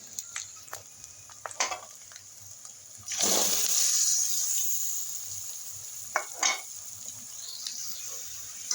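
Prawns hit a pan of spiced masala with a sudden loud sizzle that slowly fades while being stirred. Quiet clinks and scrapes of the spoon come before and after.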